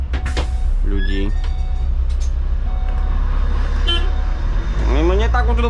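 City bus horn honking on a square in Košice, Slovakia, a few loud toots sounding close over bus engine rumble and traffic noise, with people talking.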